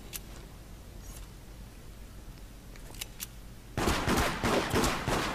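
Gunfire in the video game Deceit: a quiet stretch with a few faint clicks, then a loud burst of rapid repeated shots over the final seconds.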